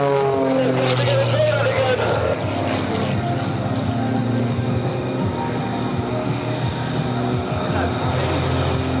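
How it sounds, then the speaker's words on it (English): A propeller stunt plane flown by Aarron Deliu drones loudly and steadily through aerobatics at the Wings Over South Texas air show, with a public-address announcer talking over it. "Amazing flying, ladies and gentlemen, by Mr. Aarron Deliu."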